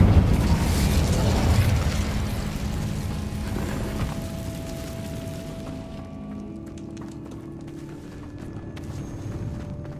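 An Incendio fire spell cast in Hogwarts Legacy, a loud rushing, rumbling burst of flame and blast that fades over several seconds into a quieter crackling tail; no talk.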